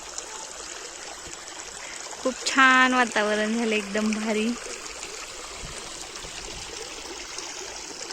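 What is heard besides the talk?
water stream flowing near farm fields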